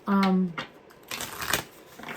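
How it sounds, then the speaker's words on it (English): A deck of cards shuffled in quick, crisp riffling bursts close by, following a short vocal sound at the start. "I'm gonna shuffle and see what comes out."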